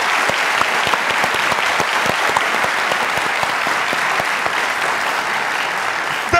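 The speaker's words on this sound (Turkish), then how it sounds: "Alkışlarla!" Dense, steady applause from a studio audience fills the whole stretch at a Turkish comedy show's relationship test hosted by Mesut Süre. It stays loud and even throughout, with no pause.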